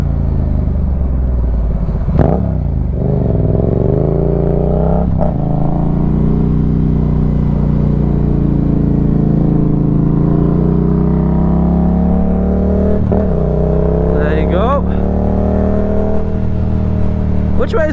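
A Yamaha MT07 motorcycle rides along dual carriageways, its engine holding a loud steady rumbling drone with a few brief swells in pitch, mixed with wind and a rider talking over it.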